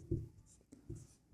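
Pen writing on paper during a class 10 maths lesson, a few soft, close scratching strokes in a quiet room.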